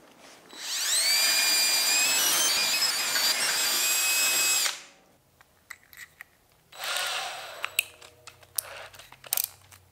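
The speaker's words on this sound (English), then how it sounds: "I can finish drilling the rest of these out" A power drill whines at high speed for several seconds drilling holes in an aluminum bed, then stops; after a pause it runs again briefly, followed by scattered clicks and taps.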